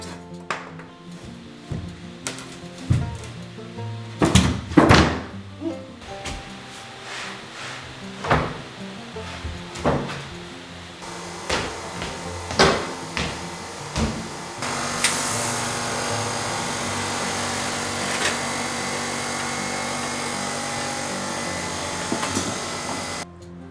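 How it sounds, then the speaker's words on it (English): Plywood underlay is nailed down with 75mm end nails: uneven sharp knocks and thuds come close and loud, some in quick bursts, and a steady hiss or whirr joins partway through. No voices. "I use 75mm long end nails 15cm apart to secure the plywood underlay."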